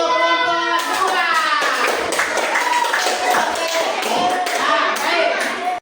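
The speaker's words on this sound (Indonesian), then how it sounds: "Baik, tepuk tangan untuk kelompok 2." Applause in a primary school classroom as pupils clap for a group, steady dense clapping throughout with children's voices and chatter mixed in.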